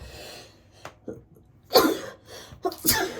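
A person sneezes twice in a row, close and loud, with a few sharp breaths and sniffs between the sneezes.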